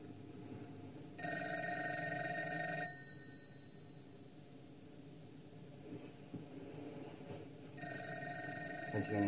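An old-fashioned telephone bell rings indoors in two loud, sustained bursts with a pause between them, over a low room hum and faint background rumble.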